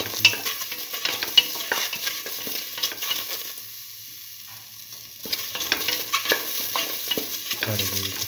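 Tomato pieces go into a hot frying pan with the mung bean vermicelli mixture and are stirred, with a sizzle and repeated scraping strokes of a utensil, a brief quieter pause midway, then more stirring close up.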